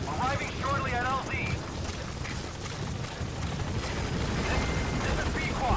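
Helicopter arriving at a landing zone in Metal Gear Solid V, a steady broadband rotor drone holding loud throughout, with brief voice lines over it at the start and end.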